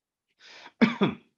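A nearby person gives a breathy throat clear followed by two sharp coughs in quick succession, with silence around them.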